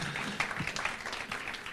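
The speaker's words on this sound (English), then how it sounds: "You can clap." A small audience at a mayoral announcement event claps in a brief, moderate burst of applause, fairly close and steady throughout.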